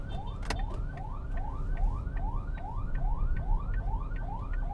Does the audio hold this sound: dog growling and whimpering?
no